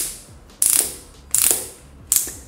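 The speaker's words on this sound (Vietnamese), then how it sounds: "Vặn nghe tạch tạch thích ha." Rapid mechanical clicking ratchets in three bursts, each ending in a sharp louder snap, as a WORX WU369 cordless drill's clutch slips repeatedly in screwdriver mode.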